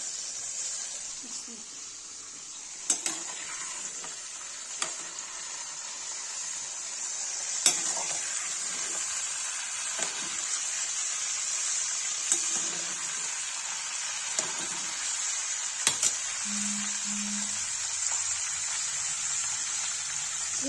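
Bottle gourd (lauki) frying in oil in a pan for Kashmiri al yakhni, a steady soft sizzle with scattered sharp clicks of utensils and stirring throughout, fairly quiet and close.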